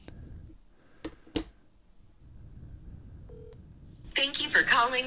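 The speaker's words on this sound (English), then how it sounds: "Now, let's make a phone call." An iPhone dialing a call, with a few sharp isolated taps followed by a rapid run of short DTMF keypad tones near the end, over a quiet background.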